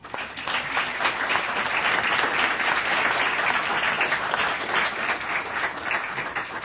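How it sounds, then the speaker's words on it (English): An audience at a panel discussion on police in counterinsurgency breaks into sustained, dense applause that holds steady and fairly loud throughout before tapering at the end. "I'd like to invite a round of applause for our panel."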